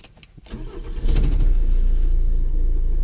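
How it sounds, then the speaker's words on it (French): A Citroën Nemo car engine cranks with a few quick starter clicks and whirs, then catches and settles into a steady, loud, close idle hum. "Je vais quand même essayer de vous la démarrer."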